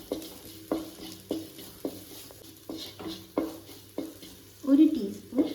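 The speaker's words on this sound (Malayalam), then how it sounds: "ഒന്നുകൂടി ഇളക്കി കൊടുക്കാം." A spatula scrapes and knocks rhythmically through chilli powder and spices frying in a pan for homemade noodles, about a dozen regular strokes over a soft sizzle, with a louder clatter near the end and no talk.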